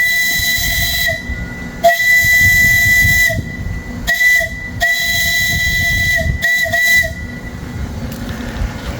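A homemade brass steam whistle built in a garage and driven by an air compressor gives loud, shrill blasts in repeated bursts, some long and some short, over a constant hiss of escaping air with brief gaps between them.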